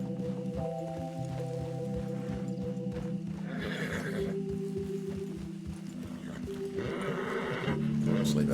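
In a Red Dead roleplay video game, a horse's hooves clip-clop in a steady rhythm while neighs and whinnies rise over layered tonal game music, close and moderately loud, with a voice speaking now and then.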